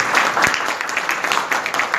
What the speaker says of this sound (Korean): 나오시는 동안 박수로 맞으세요